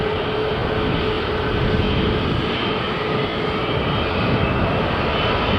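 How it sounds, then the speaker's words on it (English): An EasyJet Airbus A320 at Manchester Airport produces a loud, continuous broadband jet roar with a steady engine whine, unbroken throughout. "this one's an EasyJet Airbus A320 that's going to Athens."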